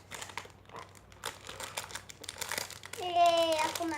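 Crinkling of new plastic packaging around a squishy toy, a close run of sharp crackles that swells louder toward the end, with a voice faintly mixed in.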